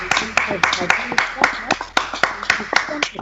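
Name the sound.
applause for health workers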